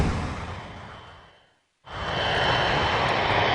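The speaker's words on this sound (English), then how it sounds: "As the unstable 747 lined up for landing" Engines of a damaged Boeing 747 on final approach roar loudly, fade to brief near-silence, then surge back at a strong steady level.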